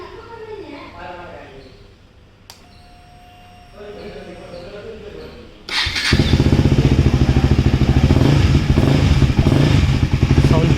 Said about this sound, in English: गाड़ी स्टार्ट करके साउंड भी सुना देता हूँ.